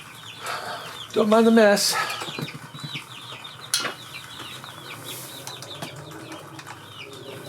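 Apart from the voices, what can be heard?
chickens clucking and flapping wings in a garage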